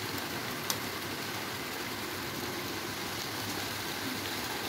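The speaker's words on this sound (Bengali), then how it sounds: "এখন বৃষ্টি হচ্ছে বাহিরে" Rain falls steadily outside on a cloudy afternoon, a soft, even hiss of drops at moderate distance that continues unbroken throughout, with one small sharp tap near the start.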